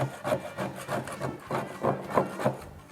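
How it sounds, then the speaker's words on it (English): Hand tool scraping thick undercoating off an old car body, a close rhythmic rasping of about ten strokes at a steady pace, with no talking. "So all this has to be scraped off before you can sandblast it"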